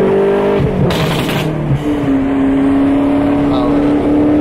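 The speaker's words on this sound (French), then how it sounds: "Et ce pop and bang, on s'en lasse pas." An 850 hp BMW M8 revving hard nearby, a loud droning exhaust note broken by a short cluster of sharp crackling pops and bangs, with a voice talking over it.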